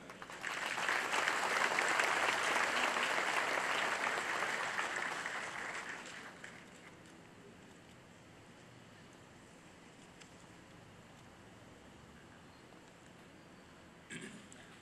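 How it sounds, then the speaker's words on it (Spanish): Loud applause from a crowd at a ceremony honouring the heroes of Operation Chavín de Huántar fills the first several seconds, then fades out, leaving a quiet room hum. "El aplauso para él."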